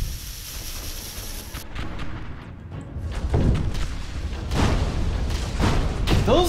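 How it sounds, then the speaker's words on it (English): Cruise missiles launching and detonating in the space strategy game Stardrive 2, a loud run of booming blasts and rumbling impacts that swell and recur over a steady dense roar. "Those cruise missiles are pretty good."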